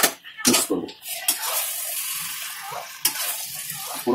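Marinated chicken being stirred with fried ground masala in a hot pan: scraping utensil clatter and clinks over a steady sizzle, with louder knocks at the start and again partway through.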